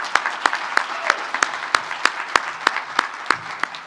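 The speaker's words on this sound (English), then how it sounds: "I just want us to give Dr. Puckrin 25 years a round of applause." Sparse applause at a leadership summit, a handful of sharp, distinct claps spaced out in a steady rhythm over a quiet room, sounding like only a few people clapping.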